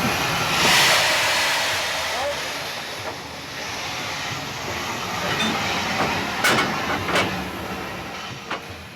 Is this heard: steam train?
yes